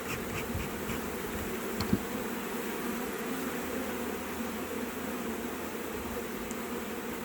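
Honey bees buzz in a dense, steady drone as a hive box full of brood is shaken out, the swarm sound loud and continuous throughout with a faint knock partway through.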